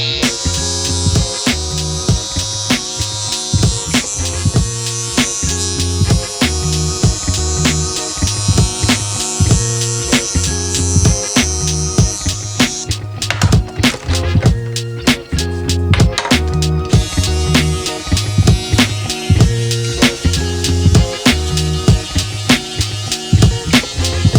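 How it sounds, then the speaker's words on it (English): An electric shaver buzzes steadily through hair during a home self-cut of a full waver style, with a close, continuous motor drone that changes in pitch as it bites and passes over the head. "Full shaver is essential to not having to keep cutting your hair as often"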